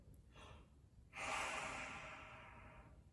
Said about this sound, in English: all you have to do is press the button and then blow through your trumpet.